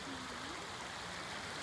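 Continuous rushing of a river along the hiking trail near Kilgore Waterfall, a steady soft wash of moving water, with a brief faint voice-like tone early on.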